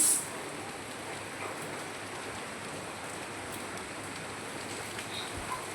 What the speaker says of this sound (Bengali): এই যে বৃষ্টি পড়ছে দেখতেই পাচ্ছ তোমরা